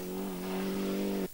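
A Seat Leon race car speeds along a narrow, dusty rally stage at the 2007 Hungarian Championship round in Orfű, its engine holding a loud, steady high-revving tone before cutting off abruptly.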